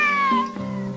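A cartoon cat gives a single clear, drawn-out meow, close and loud, with a falling pitch and nothing else heard.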